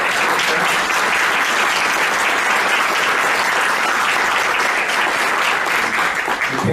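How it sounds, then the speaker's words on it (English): A room full of people applauds schoolchildren at a city council meeting in Lancaster, a loud, continuous wash of clapping that holds steady for several seconds. "One more round of applause"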